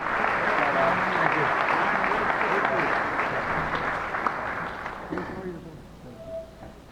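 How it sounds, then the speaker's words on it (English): Banquet crowd at a coaches association awards dinner applauds honorees for 40 years of service, a dense roomful of clapping that gradually thins and fades out, followed by a few scattered voices. "Let's give them a round of applause."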